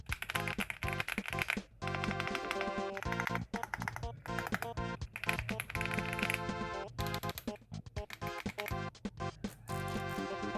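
Kreo Swarm mechanical keyboard with black GTMX switches, typed on in quick bursts of clacky keystrokes with brief pauses, close and fairly loud, no talking.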